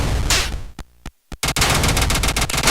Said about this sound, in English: You'll be stuck firing your machine gun